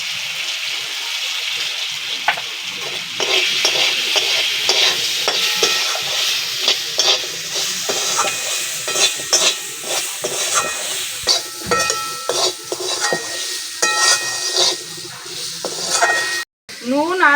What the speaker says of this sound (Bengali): নুন আর হলুদ দিয়ে আমি আলুটাকে ভালো মতন ভেজে নিয়েছি।